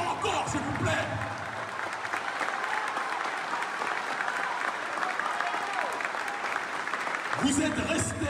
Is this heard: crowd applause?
yes